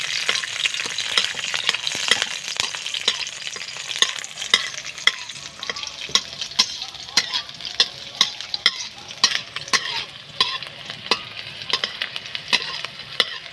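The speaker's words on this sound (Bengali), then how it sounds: "এরপরে রসুনগুলোকে আমি ভাজব গোটা রসুন" Whole garlic cloves fry in hot oil with a loud, steady sizzle, broken by frequent crackles and the scrape of stirring.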